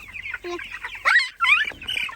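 Several chickens cluck and squawk up close while being loaded into a rebuilt chicken tractor on a farm, with bursts of agitated calls and a brief pause partway through.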